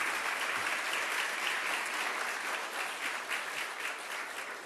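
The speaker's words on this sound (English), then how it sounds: "So please give Don another round of applause as well." An audience applauds Don at a press conference, the clapping dense and steady from start to finish, loud and close with no voices over it.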